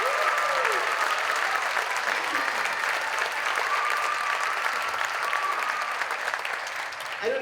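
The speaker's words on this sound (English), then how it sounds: "Let's give them a round of applause again." Loud, sustained applause from a crowd at an MLK Day 2024 event, clapping steadily throughout before tapering slightly at the end.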